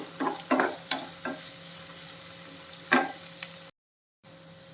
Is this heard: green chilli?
yes